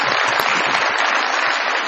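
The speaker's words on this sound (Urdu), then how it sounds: "بہت ساری تالیوں میں ویلکم کیجیے گا" A studio audience at a comedy talk show claps in sustained, dense applause that stays loud and even throughout, with no voices over it.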